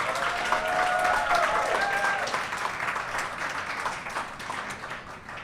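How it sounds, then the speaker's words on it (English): Applause from an audience at a book launch party, a dense, steady wash of clapping that stays loud before easing off slightly toward the end, with voices mixed in. "Let's give a big Money Master round of applause for our main star of the event, Sandy Yong."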